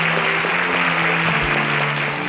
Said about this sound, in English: Please let's give them a resounding round of applause as they exit.